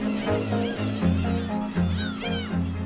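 Black-tailed gulls crowd a huge garbage heap outside Dalian in Liaoning province, many overlapping harsh, mewing calls from a dense flock, steady and moderately loud with layered near and distant cries.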